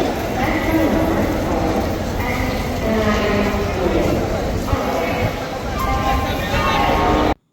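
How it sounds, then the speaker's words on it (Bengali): A train arriving at Howrah Station in the early morning rumbles loudly and continuously, its wheels clattering and drumming along the track with a dense roar throughout. "খুব সকাল সকাল ট্রেনে করে পৌঁছালাম হাওড়া স্টেশন।"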